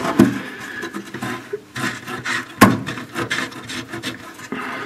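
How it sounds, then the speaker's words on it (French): Spanner work on 13 mm bolts under the front wing of a Citroën Traction, close scraping and rubbing turns with a sharp clack midway, loud and uneven, no voices. "Bizarrement ça se dévisse assez facilement."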